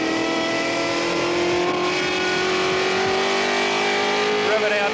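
Dick Johnson's Tru Blu MkII race car revs out toward 7,000 rpm on a circuit, a loud, continuous engine howl whose pitch climbs steadily as it accelerates down the straight.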